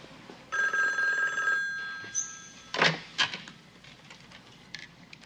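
A telephone bell rings in a house, a steady electronic trill lasting about a second and a half, followed by a brief pause and a couple of sharp clunks like a handset being picked up.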